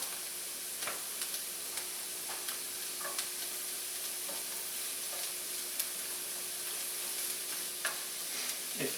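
Carrots and rice frying in butter in a hot pan for fried rice, with a steady close sizzle throughout and scattered scraping clicks from stirring, no voices.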